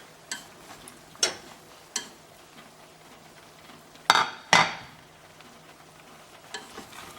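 Food being stirred in a cooking pot: several scraping, clinking strokes of a utensil against the pot, spaced irregularly with two louder scrapes near the middle, over a faint background hum.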